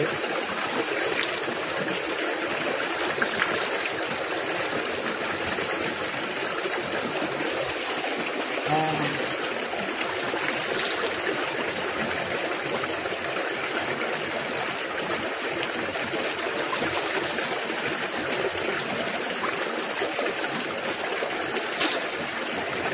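Clean, clear stream water flows steadily at Bhimkund during the Makara Jatra festival, a continuous broadband rushing and trickling that stays close and fairly even throughout.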